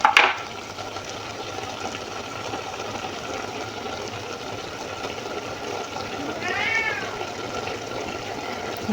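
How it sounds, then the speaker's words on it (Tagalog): A house cat meows once, a short rising-falling call in the middle of steady low background hum from a home kitchen, with no talking. "Yung pusa namin"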